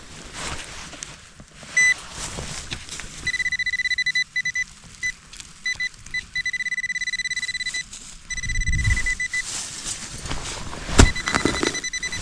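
A metal detector sweeping over forest ground gives repeated high electronic beeps and tones in short bursts, some sustained, with rustling and handling noise of the search coil in between.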